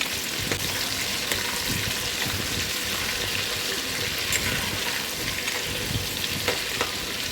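Eggplant sautés in oil in a pan for a spicy eggplant and egg curry, a loud continuous sizzle and crackle with occasional stirring scrapes running throughout.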